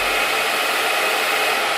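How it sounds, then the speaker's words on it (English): A hair dryer blows steadily on a lace wig, a loud, continuous close-up whoosh with no variation across the short stretch. "so I'll dry it and then melt it with the band"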